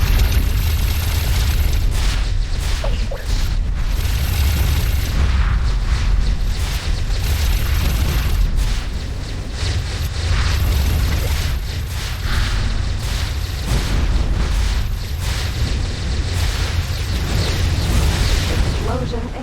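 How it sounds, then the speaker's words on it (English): Battleships explode in the X4 Foundations space game, loud booming blasts and rumbling detonations in rapid succession over a dense, continuous roar of combat. "Explosion imminent."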